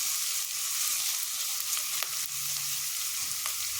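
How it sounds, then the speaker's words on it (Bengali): Vegetables fry in a hot pan for a stale-roti fry, giving a steady, close sizzle with a few light stirring clicks and scrapes and no talking. "এবার সবজিগুলো একটু ফ্রাই হতে দেব"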